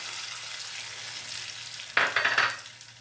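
Curry leaves, ginger pieces and green chillies dropped into hot oil with lentils, bursting into a sudden loud sizzle and crackle partway through after a low, steady background hum.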